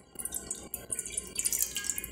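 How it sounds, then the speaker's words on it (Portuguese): About a glass of water is poured into a frying pan, giving bright splashing and dribbling close by in uneven bursts, with no speech. "vamos colocar a água na frigideira"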